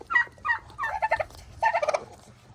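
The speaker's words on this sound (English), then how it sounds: "I think you turkey burped." A turkey makes a short series of gulping, burbling gobble sounds, close by, in several quick bursts with brief pauses between.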